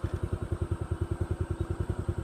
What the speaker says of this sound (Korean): 이 계곡의 물소리는 뻥이고 오토바이 소리, 텅텅텅텅텅텅